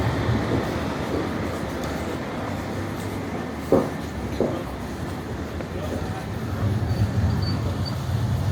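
Train rumble at a city rail station in Luxembourg, a steady low hum of rail cars with a couple of short clunks midway, under faint background voices.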